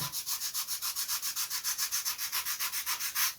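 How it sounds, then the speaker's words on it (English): Rapid, even back-and-forth sanding strokes on wooden parts for a vintage Lunak aerobatic glider model, sanded down to a cut line. About six rasping strokes per second, close and steady, with no talking. "Just going to sand down to the line"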